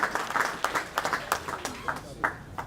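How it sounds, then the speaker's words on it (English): Listeners at a lecture in Boston clap for Bishop Alexander Wayman. The claps come as a sparse, uneven run of distinct sharp hits at moderate volume rather than a full roar. "Let's give Bishop Alexander Wayman a nice round of applause"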